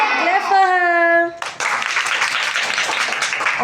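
Schoolchildren in a classroom spelling competition clap for a classmate, a burst of scattered applause from nearby small hands following a child's sung or drawn-out voice.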